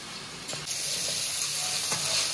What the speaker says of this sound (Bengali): এবার ভালো করে পেঁয়াজের সাথে চিকেনটাকে কষতে থাকবো।